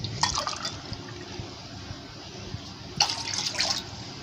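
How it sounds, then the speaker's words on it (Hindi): Water poured into an empty pan for a homemade cough and cold remedy, two bursts of splashing filling sound, near and moderately loud, with a quieter pause between. "तो इसमें हम शामिल सबसे पहले करेंगे 2 कप पानी।"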